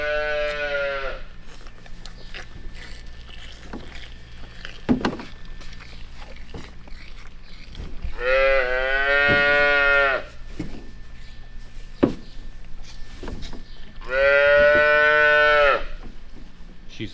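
Hungry calves in a calf barn at feeding time moo loudly and close, three long drawn-out calls spaced several seconds apart over a low background hum and occasional clanks.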